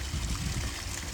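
Water from a backyard pond waterfall runs steadily while the pond fills from a new well, a continuous close rushing and trickling wash with no voices.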